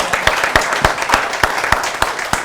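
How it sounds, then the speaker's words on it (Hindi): An audience at a televised Hindi poetry debate claps, a loud close round of applause with several sharp, individually distinct claps standing out over the steady patter. "एक बार जोरदार तालियां हो"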